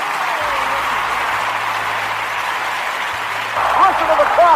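Crowd applause played on a nighttime weather podcast forms a steady, even wash of noise over a low hum, and a voice starts talking over it near the end.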